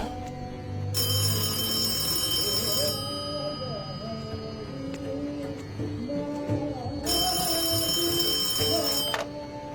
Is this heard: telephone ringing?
yes